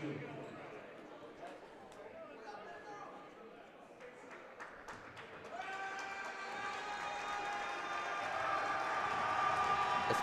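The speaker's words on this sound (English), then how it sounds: "Pulaski's crowd is really trying to make him miss" The Pulaski High School home crowd roars during an opponent's free throws at a men's varsity basketball game against Menasha. Distant gym noise swells into a sustained, rising din of shouting and whistling.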